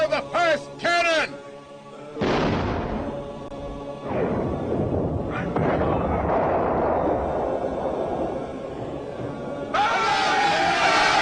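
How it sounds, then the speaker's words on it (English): Cannon fire in a drama of the Ottoman conquest of Constantinople: a heavy boom follows a shouted chant, then a long rumbling roar of battle with chaotic crowd noise and shouting voices over it. "Fire the first cannon!"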